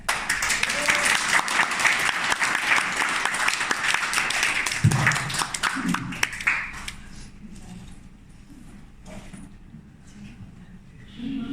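Participants at a dance class applaud their dance teachers in a loud wave of clapping that fades out after about seven seconds, leaving scattered voices and room noise.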